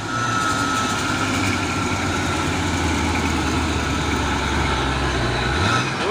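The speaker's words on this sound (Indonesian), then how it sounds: "Disorong terus sama truk tangki CPO." A CPO tanker truck engine pushes another vehicle, a loud steady low diesel rumble with a rising whine, continuous and close, with no talking.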